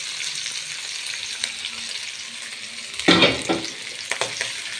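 Leftover chicken hits a hot pan for a crepe filling, with a low steady sizzle and then a louder burst of frying crackle and stirring as the pieces go in.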